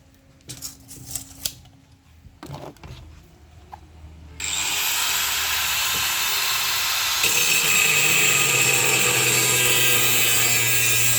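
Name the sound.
cutting a hard 2.5 mm thick sheet with a power tool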